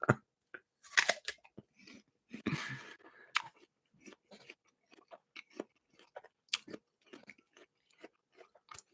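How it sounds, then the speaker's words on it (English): A person munches and crunches an apple up close, with repeated crisp bites and wet chewing in irregular bursts and short pauses between them. "Apple Munching sounds right now."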